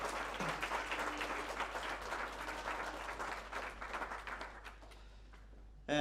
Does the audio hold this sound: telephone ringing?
no